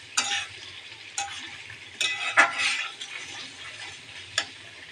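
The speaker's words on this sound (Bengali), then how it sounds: "এদিকে আমি মাংসের জন্য মশলাগুলো কষাচ্ছি।" Spices for meat fry in a small wok with a soft sizzle, marked by several sharp scraping stirs of a spatula at uneven intervals.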